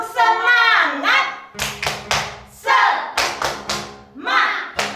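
Children in a Sunday school service clap a rhythmic cheer in bursts of sharp, close claps, with voices chanting between and over the claps.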